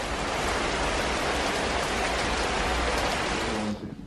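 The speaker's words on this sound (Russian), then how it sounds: "там дождь, да? Ты ж теперь назад не вернешься под таким дождем" Heavy rain falls in a loud, dense, unbroken hiss close by, then drops off abruptly just before the end.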